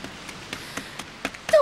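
Rain sound effect from a voice-actor drama CD, a soft patter of scattered taps and drops at irregular intervals, quiet and without speech, with a brief tonal swell rising at the very end.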